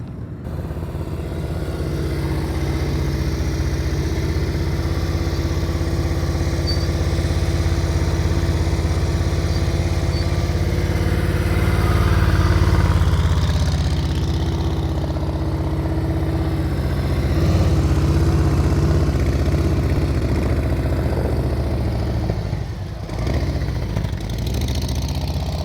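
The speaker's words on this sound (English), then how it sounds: "We got a throttle blipper." A motorcycle engine runs steadily at low speed during slow-speed riding skills practice, with a few swells in revving across the stretch that suggest throttle blips; fairly close and continuous, with no talk.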